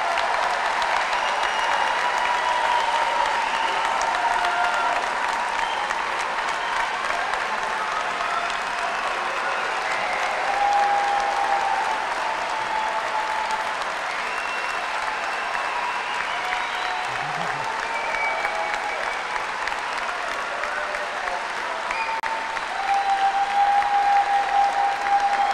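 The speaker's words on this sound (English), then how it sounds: "that's the most thunderous applause we've heard the whole day" Thunderous applause fills a commencement auditorium, a dense, unbroken roar of many hands clapping that holds at full strength for the whole stretch, with faint crowd cheers mixed in.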